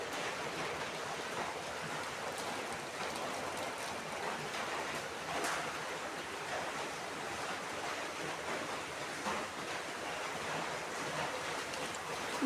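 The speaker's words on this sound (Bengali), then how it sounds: "এত পরিমাণ বৃষ্টি হচ্ছে" Heavy rain pours down in Noakhali, Bangladesh, a dense, unbroken roar of falling water that stays steady and fairly loud from start to finish, with nobody speaking.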